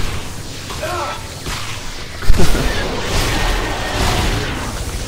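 Gunfire and heavy impacts from the Dead Space 2 video game, a sudden loud blast about midway followed by rumbling, whooshing combat noise, with a player talking over the game.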